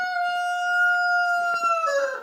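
A single long, drawn-out rooster crow at a homestead barn, close and clear, ending in a slight waver.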